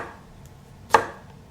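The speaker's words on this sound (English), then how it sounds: "you're just gonna keep slicing that shallot" A kitchen knife cuts through a shallot on a cutting board, one sharp close chop standing out over a low, faint background.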